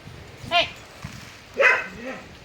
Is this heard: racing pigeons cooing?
no